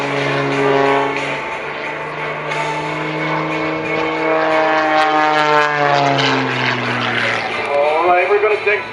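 An aerobatic propeller airplane performs a full-power hanging maneuver at the 2013 Geneseo Airshow, its loud engine drone sliding in pitch as the aircraft climbs and turns, with an announcer talking over it.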